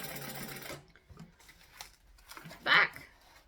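A sewing machine stitches through several layers of fabric on a Hacked Vixen sewing project, a steady close mechanical whirr at the start, then quieter handling and a short sharp burst of stitching near the end.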